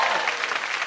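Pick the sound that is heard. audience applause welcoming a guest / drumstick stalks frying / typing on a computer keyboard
audience applause welcoming a guest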